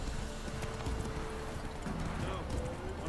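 Horse hooves in The Witcher 3: steady clip-clop footfalls at a moderate pace, fairly faint and continuous, with someone talking over them.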